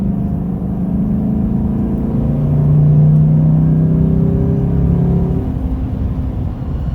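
A Chevy Silverado pickup running a 93-octane tune accelerates from about 40 mph, a loud steady in-cab engine rumble rising in pitch and swelling briefly mid-way, with no talk.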